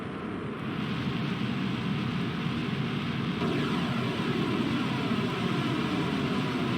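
A NERVA nuclear rocket engine in a video game roars at full throttle, a loud, steady, broad rushing thrust that holds unbroken from start to finish.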